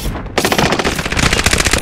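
Rapid automatic gunfire from Call of Duty: Modern Warfare rattles loud and close after a brief lull, a dense unbroken burst of shots.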